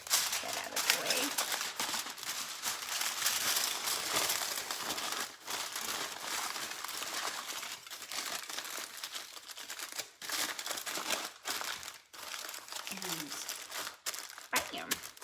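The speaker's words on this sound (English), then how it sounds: "And I'm going to wrap it with some foil right here." Aluminium foil crinkles and rustles continuously as it is wrapped around cheesecake bites, a close, bright crackling with brief pauses and a few sharper crunches.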